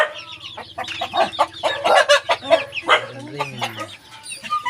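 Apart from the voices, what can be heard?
chickens clucking, native breeder chickens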